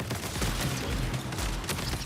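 Rapid, dense gunfire from the video game Marathon crackles continuously, heard moderately loud as a steady fusillade with no clear gaps.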